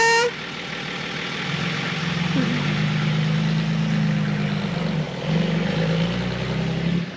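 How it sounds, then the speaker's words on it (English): A Toyota FJ40 engine runs steadily as the vehicle pulls away down the road, a low continuous rumble holding at a fairly even level throughout, with no talk. "Mixed emotions seeing it drive away into someone else's hands. There it goes down the road."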